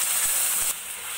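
A paste of onion, ginger, garlic and chili hits hot oil over fried onions in a pan, making a short, close hissing sizzle that drops slightly in level before fading on.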